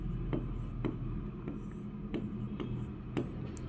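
Chalk or marker writing on a board during a Hindi-language geography lesson, a series of short scratchy strokes in uneven rhythm, fairly close with a low room hum beneath.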